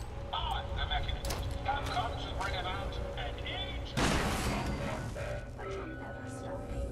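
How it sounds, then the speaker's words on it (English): Plasma grenade blast from the video game Fallout 4, a single loud burst at about four seconds that fades gradually beneath ongoing game sounds and speech. "Plasma grenade, why not?"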